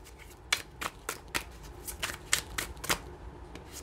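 Tarot cards shuffled by hand during a Scorpio love reading: a quiet, close run of soft papery riffles and flicks in an uneven rhythm, with no voice.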